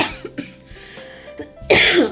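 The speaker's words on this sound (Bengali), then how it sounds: "কাশি আর আমার থামছে না" A person with a persistent cough gives several short, close coughs and throat clearings, ending in a louder harsh burst.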